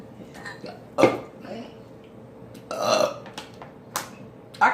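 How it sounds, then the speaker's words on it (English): Several burps after drinking pop during a burping challenge, short throaty bursts spaced a second or two apart at close range, with people talking quietly and laughing between them. "Let's see if you can burp with the pop."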